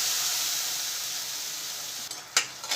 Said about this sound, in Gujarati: આ મસાલાને આપણે તેલ છૂટું પડે ત્યાં સુધી આપણે સાતળી લઈશું